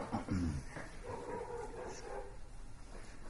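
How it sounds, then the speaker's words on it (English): A dog whimpers and yips faintly at a distance, a few short soft vocalisations over a low background. "barking dog, barking dog."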